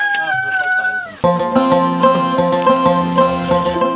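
A chicken awaiting slaughter in the Alpujarras of Spain gives a drawn-out, crow-like call for about a second. A denser, layered burst of sound then cuts in and carries on to the end.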